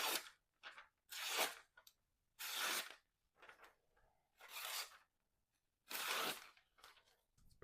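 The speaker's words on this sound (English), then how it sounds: "Let's see if it'll cut. Let's start with that magazine paper." A budget D2 steel fixed-blade knife slices through magazine paper in several quick, crisp rasping cuts separated by short pauses, close and fairly quiet.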